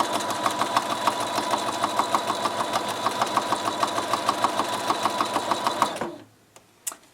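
A domestic sewing machine stitches a small practice quilt piece, running fast and steady with an even mechanical pulse for about six seconds. It then stops abruptly, leaving faint handling noises.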